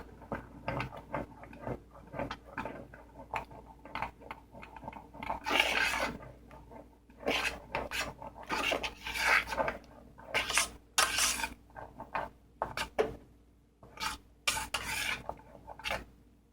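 A spoon stirs vanilla extract into a pot of Jamaican banana and plantain porridge, making repeated scraping, rasping strokes in an uneven rhythm, close and fairly loud, with no talking.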